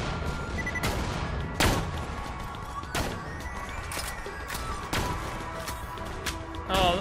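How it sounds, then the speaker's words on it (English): Gunfire in the video game Borderlands: The Pre-Sequel, with repeated sharp shots and bursts ringing out over a steady background of game sound effects and music. "Who's shooting at us?"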